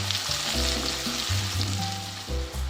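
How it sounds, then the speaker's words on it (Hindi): Sliced onions frying in a pan toward golden brown, giving a steady close sizzle with a low, uneven hum running beneath it. "प्याज को गोल्डन ब्राउन होने तक हमने फ्राई करना है।"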